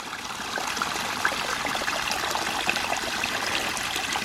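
Water rushes steadily out of a ram pump's silt catchment as it drains, a continuous hissing, trickling flow that stays close and even throughout.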